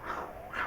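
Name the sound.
man imitating a lion's sound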